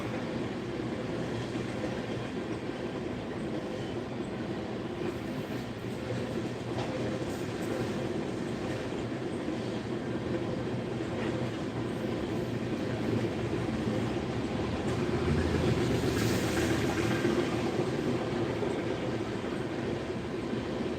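A freight train with ethanol tank cars rolls past steadily, a continuous low rumble with faint clattering of wheels that swells slightly near the end, with no talking.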